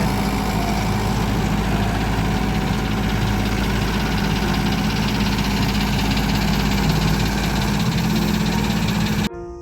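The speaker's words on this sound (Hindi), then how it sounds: "अब ये कल्टीवेटर कर दिया चालू इन्होंने।" A tractor's engine idles steadily while running a cultivator on a farm, a loud, continuous close-up drone with constant vibration that cuts off abruptly at the very end.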